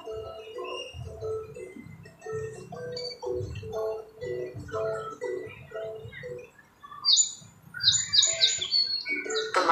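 Forest birds call in short repeated chirps and warbling phrases, with a burst of higher, rapid tweets near the end, moderately close against a quiet background.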